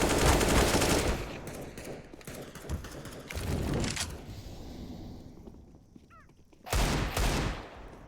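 Desert Eagle pistol shots ring out in a competitive first-person shooter esports match, a cluster of sharp reports at the start, more scattered shots and thuds through the middle, then another loud burst near the end.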